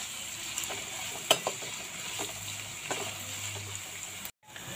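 Capsicum and other vegetables frying for street-style meal maker fried rice, heard as a steady hiss of sizzling oil with a few scraping stirs in the pan, followed by a brief cut to silence near the end.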